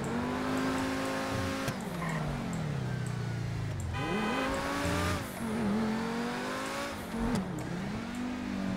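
A car in GTA 5 with a real-life mod revs and shifts through gears, its engine pitch rising and dropping repeatedly, with occasional tire squeals as it skids through turns.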